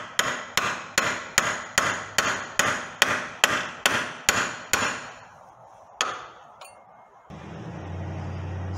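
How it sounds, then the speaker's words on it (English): Roughly a dozen sharp, evenly spaced hammer blows strike a Honda K20 differential bearing to loosen it, loud and close, followed by a few scattered metallic knocks and then a low steady hum. "So we've pounded enough that we can get this puller set up"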